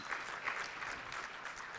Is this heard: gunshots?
no